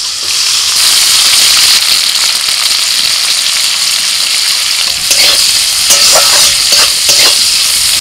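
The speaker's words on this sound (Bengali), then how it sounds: "কড়াইতে তেল গরম হয়ে গেছে, প্রথমে করলা ভেজে নেব।" Bitter gourd slices fry in hot oil in a wok, giving a loud, steady sizzle that runs throughout, with a brief burst of sharper crackling and spattering near the end.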